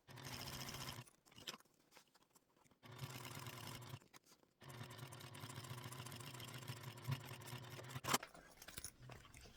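A sewing machine top stitches a fabric wristlet, with close, rhythmic motor hum and needle clatter in several bursts separated by short pauses, and the longest run near the end.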